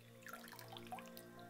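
Water sprays out through the grille of a submerged Aomais Sport IPX7 floating waterproof Bluetooth speaker, giving a steady splashing, trickling sound with small drip-like bursts over a low sustained tone.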